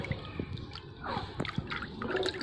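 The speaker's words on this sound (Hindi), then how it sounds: "पूरे पानी में हिला देना" Pink-tinted water being stirred by hand in a bowl for bathing pigeons: soft close sloshing and dripping swirls with small splashes, quiet and continuous, with no talking.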